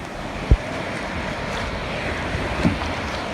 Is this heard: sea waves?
yes